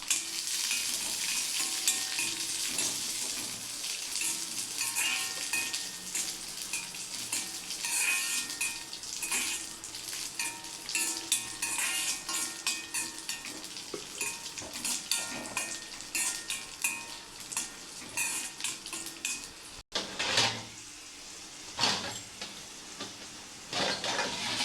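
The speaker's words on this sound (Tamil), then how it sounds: "திராட்சையும் முந்திரியும் கொஞ்சம் போட்டு நல்லா ஃப்ரை பண்ணிக்கோங்க" Raisins and cashews frying in ghee, a steady close crackling sizzle that runs throughout with frequent scraping stirs, briefly dropping out near the end before resuming.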